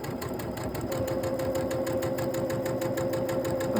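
Sewing machine stitching at 1.8 stitch length, running slowly with a steady rapid mechanical hum and rhythmic clatter, close and continuous for several seconds with no voices.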